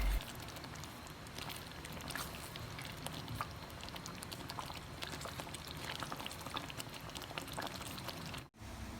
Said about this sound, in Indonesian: Masak hingga kuah mendidih dan mengental.